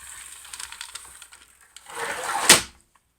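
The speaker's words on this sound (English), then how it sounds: "there's a sliding screen door that connects with a magnet, and the way you do that is you kick it to get the magnet to attach" A sliding screen door in a tiny house is kicked so its magnet latches: faint rattling and scuffs build into a sliding rush that ends in one sharp, close snap, then silence.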